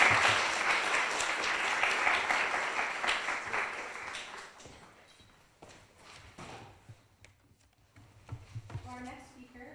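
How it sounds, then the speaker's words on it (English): An audience gives a dense round of clapping at the end of a talk at a fantasy summer school. The applause fades after about four seconds, and a speaker then talks over scattered last claps. "please, round of applause for Giuseppe Pezzini"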